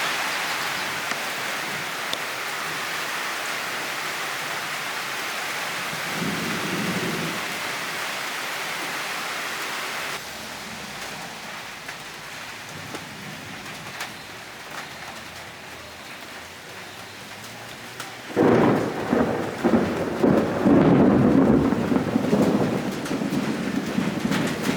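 A thunderstorm with steady rain hissing on surfaces, then a loud, close thunder rumble breaking in near the end and rolling on over the rain.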